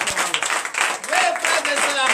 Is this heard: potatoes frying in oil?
no